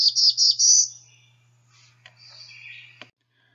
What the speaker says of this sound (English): the male, when it sings, produces a husky beer, beer,